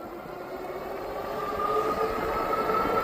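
Kingbull Jumper Go 20-inch full-suspension electric bike motor running on throttle alone, a steady rising whine that builds in loudness over a few seconds with road rumble beneath, no talking.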